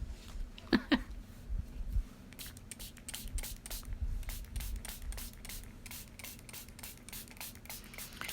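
A spray bottle mists coffee onto paper for a junk journal, a series of short, crisp hissing bursts at a steady rhythm, close and fairly quiet, with light handling rustles between them.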